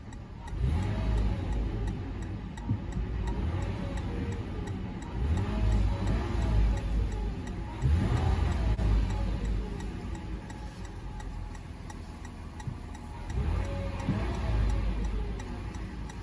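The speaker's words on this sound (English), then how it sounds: "let's go and see how she revs" A 2022 Toyota 4Runner SR5 engine idles, then revs up several times in separate swells that rise and fall back, recorded close with a faint ticking underneath.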